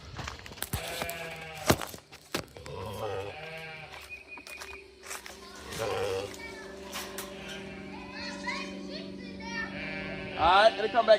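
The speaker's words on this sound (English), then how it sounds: "Come on, sheep." Sheep bleat on a farm during feeding, their calls rising between a person's coaxing and children's voices, fairly close and repeated several times.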